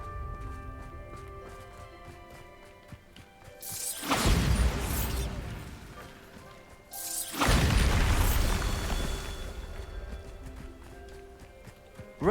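The Bombarda blasting spell in the wizarding video game Hogwarts Legacy, two heavy booming explosions a few seconds apart, each a sudden roaring burst that rumbles and slowly fades.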